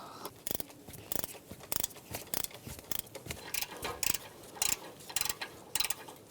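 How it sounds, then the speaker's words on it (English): A 14 mm swivel socket on a ratchet backing nuts off studs while replacing the front catalytic converter on a 2007-2013 Mitsubishi Outlander, a rapid series of sharp metallic ratchet clicks in short repeating bursts, close and crisp, with no talk. "remove the 2 nuts on the inside studs here. I'm going to use a 14 millimeter swivel socket"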